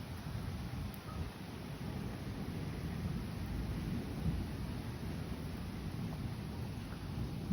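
Low rumbling thunder from a storm in Manchester, New Hampshire, rolling continuously and steadily at moderate loudness under a wash of wind and rain noise, without any sharp crack.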